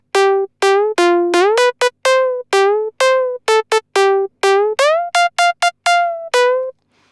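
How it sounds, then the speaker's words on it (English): Future house synth lead from Synth 1 in FL Studio, playing a fast run of bright, buzzy notes that glide up and down between pitches with portamento bends, loud and alone with no voice. "But we want to create the bend of the pitch there."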